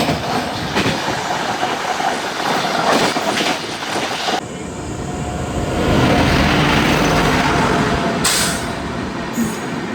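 A train runs at speed, heard from inside a crowded general coach of the Mangala Lakshadweep Express between Delhi and Mumbai: a loud, steady roar of wheels and rattling carriage with faint squeals.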